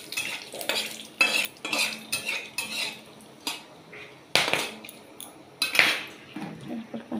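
Chopped tomato, green chilli and whole spices frying in a pan, with repeated loud metal spoon scrapes and clinks against the pan over a faint sizzle, irregular and close.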